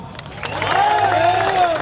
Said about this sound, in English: Please give a round of applause for our California Attorney General, Rob Bonta.